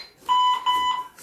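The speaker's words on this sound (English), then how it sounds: "It's going to beep again in a minute" Interval timer for an arm workout sounding three quick electronic beeps at a steady pitch, each sharp and fairly loud in a quiet room, with no talking.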